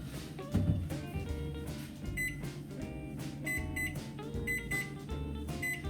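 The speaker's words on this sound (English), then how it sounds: "Set my timer." A kitchen timer is set while baking cranberry orange scones, giving several short, high electronic beeps in small clusters over faint background sound, no talking.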